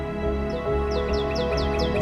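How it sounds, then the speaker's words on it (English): Birds in a wetland at dusk: repeated short, high downward-sweeping chirps, fairly near, over a dense, steady low background drone. "when the birds descend tired to sleep."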